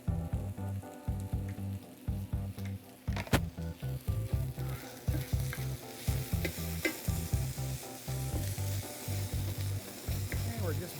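Food browning in a hot pan, with steady sizzling and frying broken up by repeated rhythmic stirring and scraping strokes for the whole stretch, close and fairly loud with no talking.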